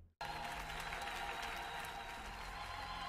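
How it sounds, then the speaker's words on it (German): Thin, scattered clapping from a few people at a Lost Ark release date announcement rings in the background, steady but subdued throughout. "Im Hintergrund der verhaltenste Applaus aller Zeiten."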